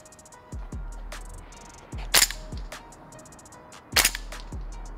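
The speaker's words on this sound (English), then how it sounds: "let's see if I can just stretch this out with 3 2-gram BBs" A G&G MGCR 556 gas blowback airsoft rifle fires 0.2-gram BBs outdoors, with sharp single cracks and bolt clacks, a few spaced shots, two of them louder with a bright metallic snap.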